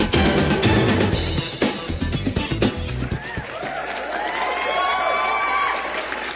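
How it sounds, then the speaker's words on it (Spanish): A burst of crowd cheering and clapping, used as a sound effect on a morning radio news programme, lively and dense at first, then giving way to a quieter wash of crowd noise. "Ya, no me aplaudan tanto."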